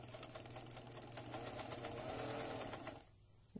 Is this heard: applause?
no